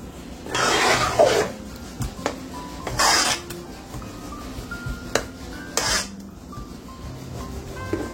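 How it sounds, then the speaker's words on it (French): A corn and spinach cake mixture is stirred in a bowl, with scraping strokes rising and falling in bursts and a few light clinks of the utensil, close by and moderately loud. "On remue le tout. On remue bien."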